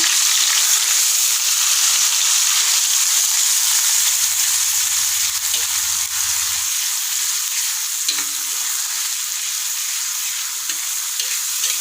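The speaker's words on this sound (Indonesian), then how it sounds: "Langsung aja kita tumis bumbunya." Spice paste for coconut-milk soto Betawi sautés in a pan, a loud, steady hiss of frying with occasional stirring knocks and a brief low rumble partway through.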